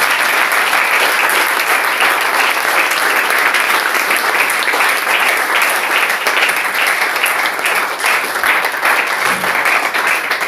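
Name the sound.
congregation applauding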